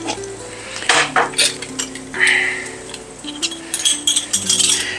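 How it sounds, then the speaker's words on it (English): A lid being set on a pot of Asian sticky ribs, with several close metallic clanks and rattles of cookware and a brief hiss in the middle, over a low kitchen hum. "let me put the lid on here"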